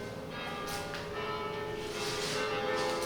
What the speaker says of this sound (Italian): C'è proprio campane a festa.